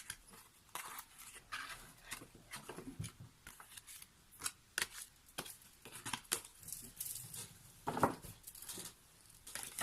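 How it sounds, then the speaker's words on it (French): A large deck of oracle cards is shuffled by hand, producing faint, soft riffles and papery flicks in an irregular rhythm, close up in a quiet room. "Beaucoup de cartes, donc c'est pas forcément évident à battre."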